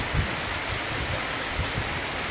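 Heavy rain falls in a steady, dense wash of broadband noise, loud and continuous, with soft low thumps beneath it and no talking.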